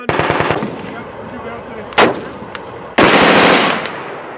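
Norwegian soldiers firing an FN Minimi belt-fed machine gun outdoors: a loud, close burst of rapid automatic fire, then a single sharp shot, and a second sustained burst near the end.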